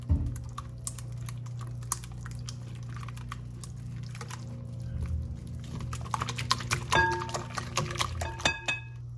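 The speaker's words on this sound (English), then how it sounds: "I'm gonna start by just whisking together the eggs, mayo, and mustard" A whisk beats eggs, mayonnaise and mustard together in a bowl, giving soft wet clicks and taps that grow quicker and sharper toward the end, over a steady low hum.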